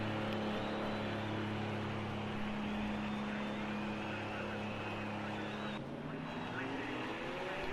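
BMW GT3 race car pulling out of the pits in a racing video game, a steady engine drone with a sustained tone that shifts pitch partway through, heard under a commentator's voice.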